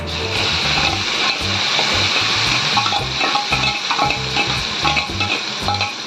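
Boiled mixed vegetables fry in sesame oil with popped mustard seeds and asafoetida for a pickle, giving a loud, steady sizzle broken by regular scraping clicks of stirring.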